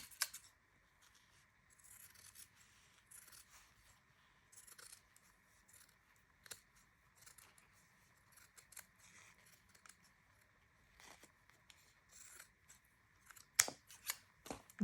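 Scissors snipping through lace bra fabric, a run of quiet, close cuts and rustles that come in short irregular bursts and stop now and then.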